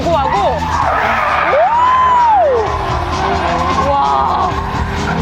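A lightweight Hyundai rally car skids and drifts fast through a corner at a festival, a loud tire squeal sweeping up and down over engine roar, with a commentator speaking and a crowd faintly audible.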